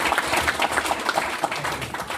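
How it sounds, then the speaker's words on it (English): Applause from a small audience at a co-founders startup meetup after a pitch talk: brief, crisp clapping of moderate loudness lasting about two seconds, with no talk over it. "Round of applause."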